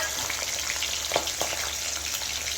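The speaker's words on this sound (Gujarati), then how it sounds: "થોડી જીરું, ને આપણે જે સમારેલા હતા લીલા મરચાં, સાથે ટમેટાં પણ નાખી દેવાનું।" Cumin, green chillies and tomatoes frying in a pan, a steady, close, continuous sizzle with a couple of faint stirring taps.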